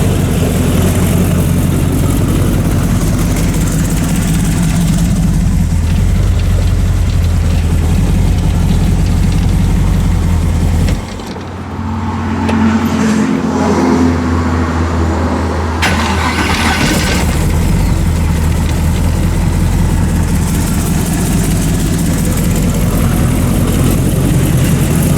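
A newly installed 350 small-block Chevy V8 runs loud and close during its break-in, holding a steady rumbling idle. A brief dip in the drone comes near the middle before it settles back to full volume.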